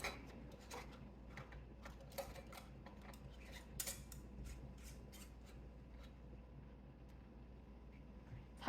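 Metal canning lids and screw rings clink and scrape as they go onto hot jars of zucchini pineapple filling, a string of quiet, close taps and rubs at an uneven pace with no talking.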